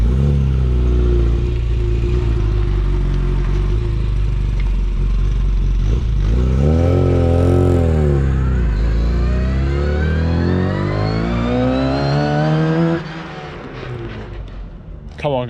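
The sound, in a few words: Classic Mini 1380cc with straight cut gears driving past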